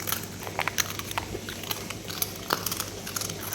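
A German Shepherd puppy chews and bites food, giving a steady run of close, crisp crunching and crackling bites over a faint constant hum, with no talk.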